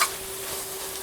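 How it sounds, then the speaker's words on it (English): Hunan-style braised pork with dried sweet potato leaves sizzles in an uncovered pan as the liquid cooks off, giving a brief, steady frying hiss with a faint ringing tone beneath it. "you can hear the sizzling sound get"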